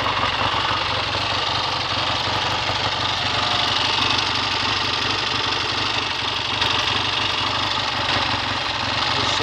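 A 1968 Triumph Tiger 650 TR6R motorcycle engine runs steadily and loud throughout, a dense continuous throb with a slight misfire, no talk over it.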